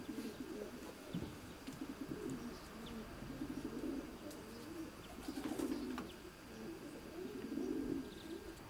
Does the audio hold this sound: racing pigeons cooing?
yes